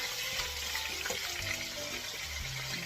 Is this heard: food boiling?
yes